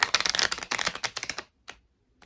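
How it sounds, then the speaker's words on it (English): Playing cards riffle shuffled by hand, a dense run of rapid crisp clicks for about a second and a half, then a brief soft flutter as the split halves settle, close and fairly loud. "So a riffle shuffle, you split them in two"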